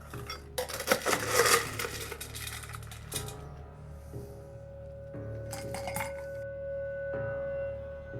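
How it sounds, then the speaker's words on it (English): Ice cubes clatter into a cocktail glass with a black and white rim while a Devil's Margarita is being made: a loud burst of clinks early on, then a few lighter knocks and clinks. "we're going to put some ice in the glass"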